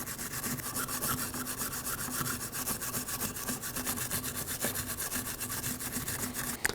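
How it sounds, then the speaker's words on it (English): A wire brush scrubs the surfaces of a rear brake caliper bracket on a 2003-2006 Subaru Baja, making a fast, even rasping scratch of rapid back-and-forth strokes that continues steadily at moderate level. "I'm going to use a wire brush and clean up the surfaces"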